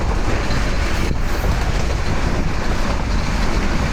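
A passenger train runs through fog in Bangladesh, a dense, loud, steady rumble of wheels and motion filling the whole stretch without a break.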